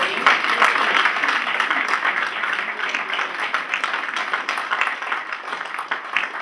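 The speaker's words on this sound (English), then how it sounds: "I think that deserves a round of applause" Audience applause fills the room at a Break The Mould Make a Change 2012 event, steady dense clapping that holds for several seconds with no talk over it.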